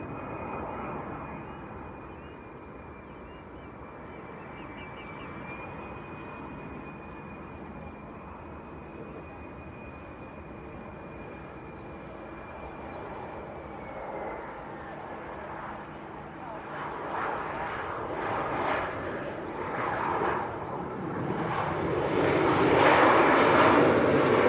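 Fixed-wing aircraft arriving at Leeds Bradford Airport on a flight from Alicante: a steady distant engine whine with a falling tone builds into a broad, louder roar toward the end, with faint background noise.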